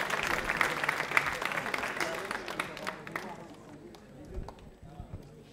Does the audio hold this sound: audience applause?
yes